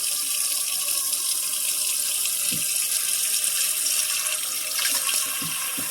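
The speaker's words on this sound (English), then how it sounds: "I'm going to fill it up with water." Steady running tap water pours into a Dutch oven, a continuous close rushing splash with occasional small knocks and clunks.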